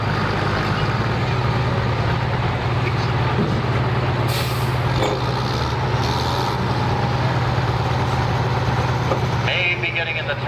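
A pulling truck's engine roars loud and steady at a truck and tractor pull, a constant heavy drone with a deep low hum, while an announcer talks over it.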